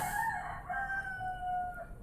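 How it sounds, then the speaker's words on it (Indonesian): A rooster crows once, a loud, drawn-out cock-a-doodle-doo rising then trailing off, heard clearly on its own. "ayam berkokong"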